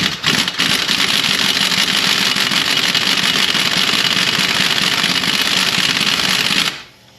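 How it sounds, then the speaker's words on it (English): Air impact tool spinning off a lower control arm bolt on a 2013 Mazda CX-5, a loud, steady, continuous rattling whir running nearly seven seconds before stopping abruptly. "if you're using an air tool, what you want to do is just put it on the head"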